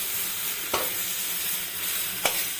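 Pointed gourd and bottle gourd mash fries in a pan as it dries out, giving a steady close sizzle. A spatula scrapes twice against the pan, with no talking.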